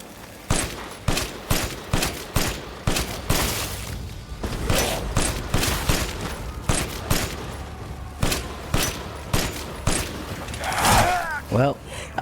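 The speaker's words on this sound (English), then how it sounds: "Chris's machine guns are pretty powerful" Chris's machine gun in Resident Evil Village fires in repeated sharp bursts at a steady rhythm, loud and close, with a voice speaking over parts of the gunfire.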